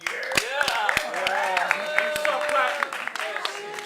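An audience claps in scattered, uneven bursts beneath loud, overlapping voices and shouting, the individual claps sharp and close but not building to full applause.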